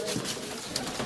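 Pigeons coo softly and steadily inside a dovecote, a low burbling murmur running through the whole short moment without any voices.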